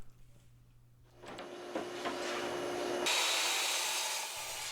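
Power saw cutting 1/2 inch plywood panels for cornhole board tops: a motor spins up, then a loud steady whining cut that holds to the end.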